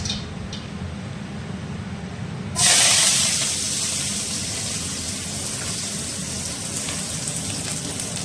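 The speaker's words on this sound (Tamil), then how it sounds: "கடுகு பொரிஞ்சிருச்சு" Mustard seeds hit hot oil for a bottle gourd kulambu, setting off a sudden loud hiss that eases into steady, crackling spluttering alongside a low stove rumble.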